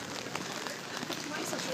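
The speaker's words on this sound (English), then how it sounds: "It's raining." Rain falls outdoors in a dense steady patter with scattered louder drops close by, continuous and even, and a faint voice murmurs in the background.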